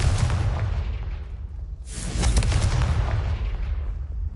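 A Confringo fire-blast spell in the Hogwarts Legacy video game lets out a loud, sustained explosive roar. A deep burst swells again midway and rumbles on, with no talk over it.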